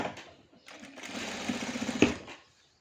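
A sewing machine stitches around the edge of a quilt patchwork piece in one short close burst of rapid needle chatter that builds and stops, with a faint voice at the start.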